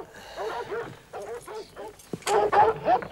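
Hounds chasing a man bark and yelp in short, excited bursts that come close and loud, mixed with whimpering yips and some agitated sounds.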